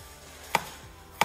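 A kitchen knife cuts through fresh ginger, two sharp, close chops on a board about half a second apart over quiet background.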